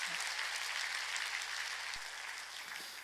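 A church congregation at a Sunday worship service claps together in sustained, dense applause that carries on steadily for a few seconds, heard from within the hall with no speech over it.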